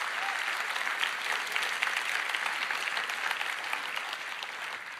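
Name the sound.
audience applause at keynote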